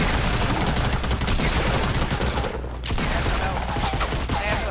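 Rapid gunfire from the Fortnite battle royale game, dense overlapping bursts that continue almost the whole time with a short lull midway, loud and close.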